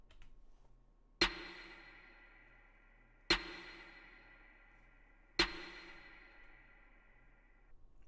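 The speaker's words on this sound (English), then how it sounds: "It's basically a percussion sound layered with a snare" A snare layered with a percussion sound hits three times at even intervals, each a sharp, bright crack with a long ringing decay, fairly quiet and isolated with nothing else playing.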